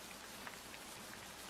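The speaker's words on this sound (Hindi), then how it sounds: "कुछ देर बाद बारिश होना शुरू हो गई।" Rain patters onto a village path on a cold night, a dense, even hiss of drops heard faintly with no voices.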